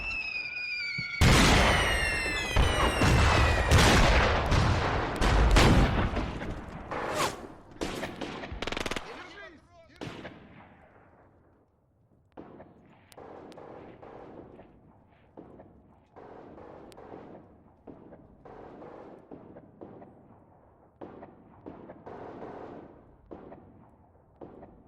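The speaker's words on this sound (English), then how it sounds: "the artillery is really thick right now" Dense artillery barrages and gunfire in the Graviteam war game, with a loud opening run of heavy blasts and rapid bursts, then a steady stream of more distant booms and crackling shots rolling on throughout.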